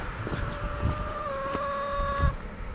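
Free-range chickens on the grounds of a hiker hostel give out drawn-out, tonal clucking calls at moderate distance over a soft outdoor background, with a few faint rustles.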